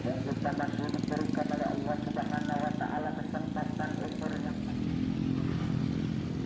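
Motorcycles ride over the steep approach of the Gerilya bridge in Klayan, Banjarmasin, giving a steady rumbling engine drone with rattling clatter, close and continuous, and a voice talks over it.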